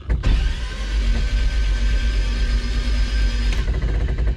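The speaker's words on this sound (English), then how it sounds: "Yeah, I just tried to crank it really quick." A 1969 Lotus Europa barn find, stored for 15 years, cranks over briefly on its starter without firing, a loud, close, steady whirring churn that starts abruptly and cuts off after about three seconds.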